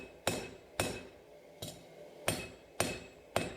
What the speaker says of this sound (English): Now I'm going to be hammering in a tip, and I'm also using my 32-ounce hammer